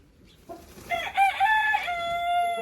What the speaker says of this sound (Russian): Так, как раз петух зашел.